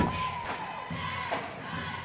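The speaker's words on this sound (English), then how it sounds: "the crowd is standing on their feet clapping along with it" A basketball crowd at a high school varsity senior night game, Broken Bow vs Howe, stands clapping and cheering, a dense, steady roar of many voices and hands filling the gym with no clear individual speech.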